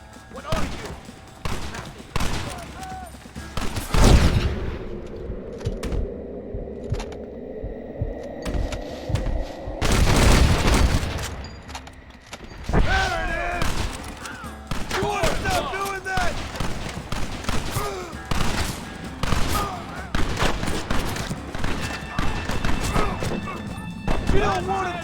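Scattered gunshots from the Western video game Red Dead Redemption during a fight at a gate, irregular sharp cracks mixed with shouting voices and a low droning hum, moderately loud.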